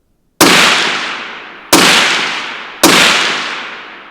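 Three sharp .308 rifle shots from a compact 17-inch hunting barrel firing Black Hills 175 grain Win Match ammunition, each a loud crack with a long fading tail, spaced about a second apart outdoors.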